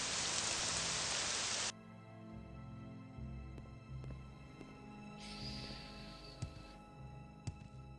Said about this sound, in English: I hate the rain, it gets super loud.